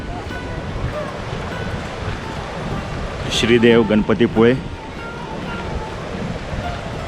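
Surf washes on Ganpatipule beach as a constant broad rush mixed with wind, and a voice speaks briefly midway over it.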